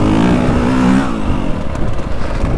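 A 2025 Honda CRF450R Works Edition motorcycle engine revs loudly and close, holding a high pitch before dropping off into a rougher, uneven idle-like rumble.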